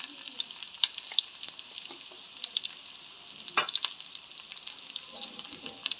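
Mustard seeds and fennel seeds fry in a pan with a soft, continuous sizzle and scattered small pops and crackles, faint and close.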